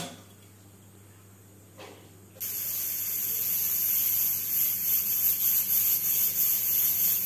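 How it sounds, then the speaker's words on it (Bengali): A pressure cooker of peas cooking for ghugni on a gas stove breaks into a loud, steady hiss after a quiet start and keeps up a bright, continuous rush of escaping steam for several seconds. "আমি 2টো সিটি দিয়ে নেব।"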